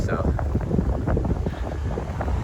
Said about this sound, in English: But it's quite windy too.